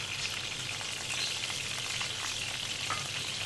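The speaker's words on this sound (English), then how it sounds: "Just gonna fry the others." Fish fries in very hot oil for Cape Malay pickled fish, making a dense, constant close-up sizzle with small crackling pops throughout and no voices.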